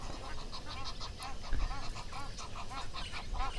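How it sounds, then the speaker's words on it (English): A pair of Egyptian geese at a waterhole give repeated harsh, nasal honks in a steady rhythmic series, fairly close, over a low background rumble. "there we have 2 Egyptian geese"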